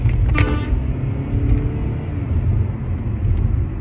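A car drives close by in traffic, a loud low rumble of engine and road noise that holds steady throughout, with a brief higher tonal sweep near the start.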